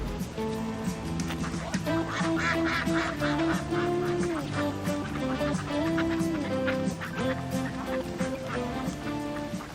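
Several ducks quack and honk in overlapping bursts beside water, loud and busy throughout, with a voice talking in the mix.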